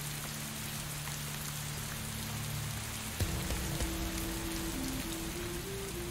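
Steady rain hisses as a constant wash in a stealth game, then briefly gives way to quieter ambience before the downpour resumes, with a few faint tones underneath.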